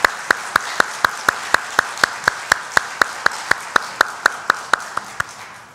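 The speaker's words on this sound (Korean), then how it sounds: "힘차게 박수하시면서 축복과 격려의 박수하시겠습니다" A congregation at a Sunday afternoon church worship service applauds the choir. One crisp clap cuts through on a steady beat, over a dense wash of clapping from the crowd, and it lasts several seconds.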